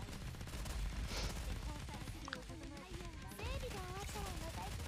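Sustained gunfire while shooting a boss's core in the game Goddess of Victory: Nikke, loud rapid shots running throughout with a voice talking over them.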